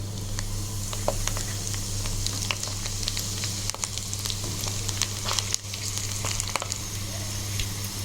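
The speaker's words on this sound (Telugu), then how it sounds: "ఇప్పుడు మనం తీసుకున్న వెల్లుల్లి, జీలకర్ర, ఆవాలు, మినప్పప్పు అన్ని పోపు దినుసులు ఇందులో వేసుకుంటున్నాను." Garlic, cumin, mustard seeds and urad dal sizzle and fry in hot oil for a tempering for tomato dal, a steady close crackle dotted with small pops and spits throughout.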